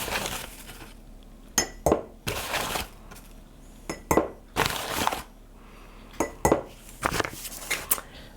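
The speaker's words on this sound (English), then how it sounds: "I'm gonna put 4 tablespoons of cornmeal in my jar" Tablespoons scooping cornmeal into a glass jar, a series of bright clinks and scrapes of metal spoon on glass with soft pouring rustles between, close and clear with no talking.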